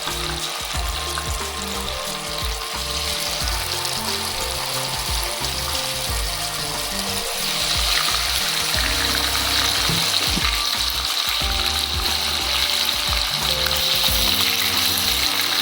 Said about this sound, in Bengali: বাকি চিকেনগুলো আমি আবারও ফ্রাই করে নেবো